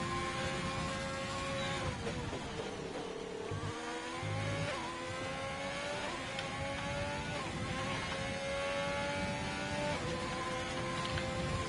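Formula 1 car in an F1 racing game heading down toward turn 8 at the Canadian track, its high engine note rising through gears with a dip and gear changes around four seconds, sustained and alone.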